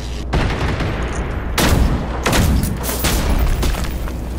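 Enemy gunfire in the video game Generation Zero, with loud, booming bursts of shots hitting close by. A sharp volley erupts midway, followed by further rapid bursts that blend into a dense, continuous clatter.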